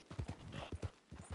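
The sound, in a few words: horse hooves clip-clopping in Red Dead Redemption 2 Online video game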